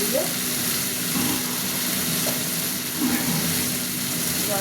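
Water splashes into a frying Bengali amudi fish curry with potato and tomato, setting off a steady, close sizzle and crackle that runs throughout without any talking.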